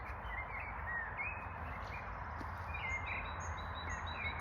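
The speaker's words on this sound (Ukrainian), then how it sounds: "Пташки співають, все так хрустить, вітерець подуває, дерева створюють шум." Faint, scattered bird chirps and whistles carry over a steady, quiet outdoor hiss, sounding distant and sparse.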